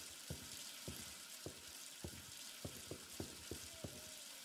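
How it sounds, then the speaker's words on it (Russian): Water runs steadily in a haunted-house scene of the indie horror game Ghost Stories 2, a broad hiss filling the whole clip while a series of low, regular knocks or thuds repeat beneath it. "Ладно, выключи воду, а то я тут оглохну."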